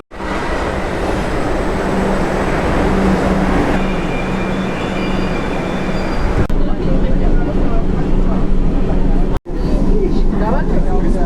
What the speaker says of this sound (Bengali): আমাদের গাড়ি চলে আসছে